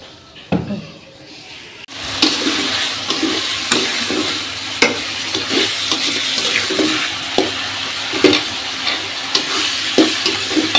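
Spinach, aubergine and bori curry sautéed in a pan, with a steady close sizzle broken by repeated scraping stir strokes at a loose rhythm.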